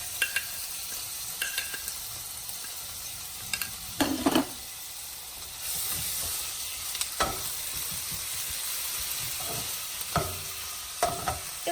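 Ginger and the white part of spring onion sauté in hot coconut oil, a soft continuous sizzle with scattered spatula taps and stirring scrapes nearby, and no voices.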